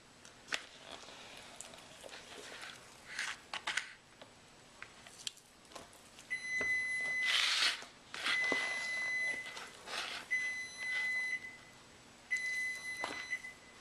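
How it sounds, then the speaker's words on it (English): A kitchen timer left running while making country bread beeps in repeated bursts of high tones, four regular groups after some faint clatter and shuffling. "That's what happens when you don't hit the cancel button on your timer."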